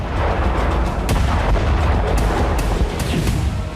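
Explosions at night in Sevastopol: a dense, loud, continuous roar of blasts and deep rumbling booms, with sharper cracks punching through at irregular intervals and no talk.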